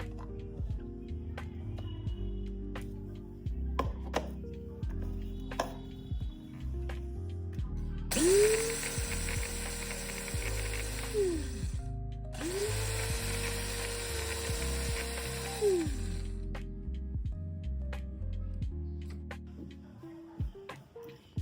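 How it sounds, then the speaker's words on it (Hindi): An electric grinder coarsely grinds a cooled spice mix for amla (Indian gooseberry) pickle in two loud bursts, each whirring up and cutting off, with a short pause between and quieter clicking and handling sounds around them. "अब मैं इसे ग्राइंड कर लेती हूँ। इस मसाले को दरदरा ग्राइंड करना है।"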